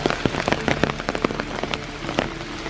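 Rain falls steadily on a wooded hillside trail in Iroquois Park on a dark, foggy morning, a dense patter of close drops striking leaves and surfaces without pause.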